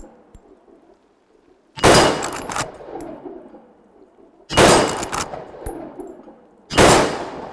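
A 30-30 lever-action rifle fires outdoors at a steel target, three loud sharp shots spaced a few seconds apart, each with a ringing decay and quiet handling sounds between.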